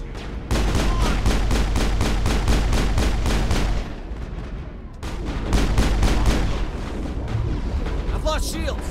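Gunfire and a grenade blast in the video game Mass Effect, with a rapid burst of rhythmic shots for several seconds, a brief lull, then a heavy rumbling explosion and more firing, while a player shouts excitedly over the combat.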